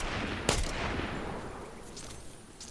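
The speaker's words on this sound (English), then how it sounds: "Couple shots from the DMR come through" A single sharp, loud DMR shot cracks out from the Fortnite match early on, then fades into steady background game noise with no speech.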